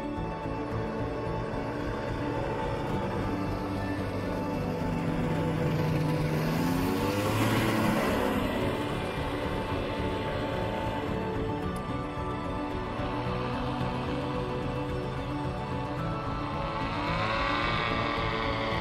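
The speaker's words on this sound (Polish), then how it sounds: "Ładnie idzie w górę, kopyto silnik ma." A light aircraft's engine drones steadily during a climb, with a pitch sweep near the middle as it passes close by, then settles back into a constant hum.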